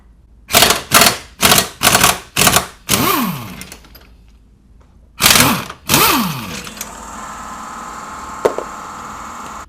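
A ratchet spins off 16mm subframe bolts on a 2002-06 MINI Cooper S, five quick bursts of loud clicking near the start, then a pause, another burst, and a softer mechanical whir trailing to the end.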